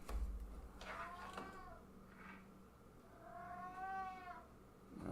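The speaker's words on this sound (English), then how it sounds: "I hope you ain't hearing that stupid cat in the background" Nearby cat meows indoors behind a casual open-discussion recording: a couple of short, rising meows early, then one long, drawn-out wailing meow near the end over steady room noise.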